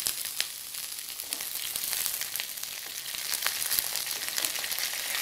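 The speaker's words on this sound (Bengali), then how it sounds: "এবার এই ডাঁটাগুলো অল্প ভেজে নেব।" Drumsticks (moringa) and potatoes frying in oil in a pan, a steady bright sizzle with scattered crackles and pops, close and continuous with no talking.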